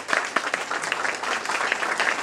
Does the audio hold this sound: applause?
yes